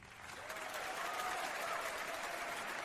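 Steady crowd applause in a Kingdom Hearts 2 video game music remix. The continuous clapping swells in over the first half second and then holds, quiet and far off.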